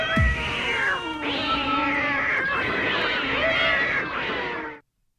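Cats in a fight yowl and caterwaul in long, wavering, rising and falling cries, loud and close, one howl overlapping the next before ending abruptly.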